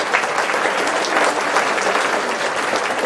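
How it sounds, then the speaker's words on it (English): Audience applause for middle school students at Castillero, steady dense clapping from a crowd filling the whole stretch at a fairly loud level. "Please give them an applause."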